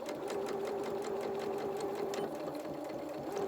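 A domestic sewing machine stitching a hem and reversing to lock the stitches, a fast, even mechanical whirr with a steady tonal hum, running close and unbroken throughout.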